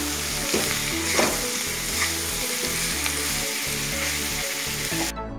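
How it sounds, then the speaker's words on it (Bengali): Jackfruit frying in a wok with spices, a loud continuous sizzle with occasional stirring scrapes, close up and with no voices. "তো ভালোভাবে ভেজে নেব।"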